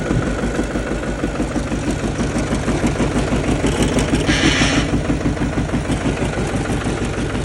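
A Xingtai 220 tractor engine runs at a steady idle, close and loud, with an even, rapid mechanical thrum and a brief brighter hiss midway.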